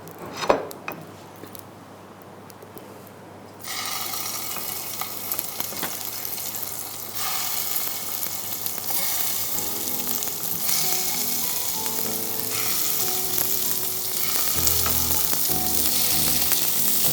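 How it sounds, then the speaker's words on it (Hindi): Meatballs frying in olive oil in a pan give a steady, close sizzle that starts quietly and swells to a dense, continuous crackle after a few seconds, with scattered spits and pops throughout. "मीट बॉल को पका लेते हैं जो हमने रेडी किए थे"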